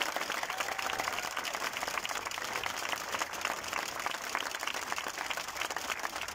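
Spectators clap at the team presentation before stage 1 of the Danmark Rundt 2023 cycling race in Aalborg, a continuous, evenly loud wash of applause from a crowd, with no break for the whole stretch.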